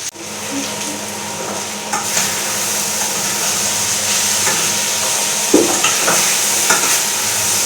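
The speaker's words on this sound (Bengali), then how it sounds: "আলু পেঁয়াজ ভাজা হচ্ছে" Potatoes and onions fry loudly in a pan, a dense continuous sizzle broken by repeated scraping stirs close by.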